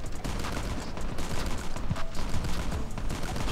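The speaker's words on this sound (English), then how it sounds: "that shotgun's crazy" Rapid shotgun blasts ring out in COD Mobile's Undead Siege hard mode, a busy barrage of overlapping shots and gunfire over a constant game din, with no talk.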